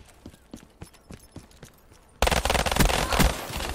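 An RK5 gun firing in a video game gun game mode: a rapid run of sharp, evenly spaced shots, followed by a much louder, denser stretch of sustained fire.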